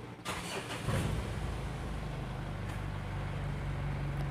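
A Mitsubishi Pajero Sport engine, at about 98,500 km, cranks and catches, settling into a steady, rumbling diesel idle close by.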